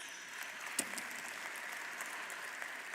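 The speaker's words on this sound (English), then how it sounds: "Let's give them one more big FII round of applause." An audience at a summit applauds, with continuous, moderately distant clapping that holds steady for the whole stretch and has one sharper clap near the start.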